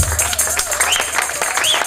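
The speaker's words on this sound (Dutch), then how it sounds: "Laten we klappen voor onze Heer." A church congregation in Antwerp claps briefly in a brisk patter, with voices and singing mixed in over the applause.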